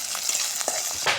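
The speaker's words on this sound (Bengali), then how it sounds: "রসুন কুচি, তেজপাতা, পেঁয়াজ কুচি, কাঁচামরিচ। খুব সুন্দর করে এটা আমরা লাল লাল করে ভাজে নেব।" Chopped garlic, bay leaf, onion and green chili fry in oil with a loud, close, steady sizzle and crackle, with a few louder spits and stirring bursts.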